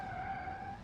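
In the BeamNG.Drive driving game, a car's brakes lock up and the tires let out a short, steady, high-pitched skid squeal that lasts under a second.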